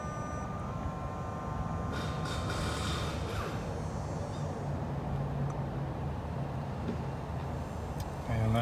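A 2016 Mercury 90 hp four-stroke outboard engine runs through an idle air control test, giving a steady broadband rumble and hum that rises slightly partway through, heard under a man's speech.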